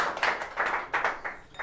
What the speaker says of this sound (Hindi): जोरदार तालियां हो जाए नमिता यादव के लिए